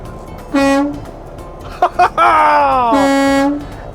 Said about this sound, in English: One of my favorite parts about a semi-truck, I've always dreamed of doing this, is pulling the air horn.